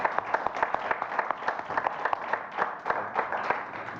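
An audience applauds guests at a talk on Spanish chivalric orders, a moderate room of hands clapping with distinct individual claps audible in a steady patter.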